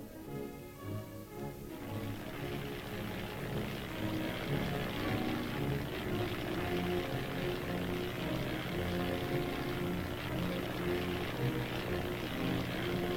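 Propeller reconnaissance aircraft flies during an armored mobile defense exercise, a steady droning engine with a low throbbing hum that swells in after a couple of seconds and holds at moderate level.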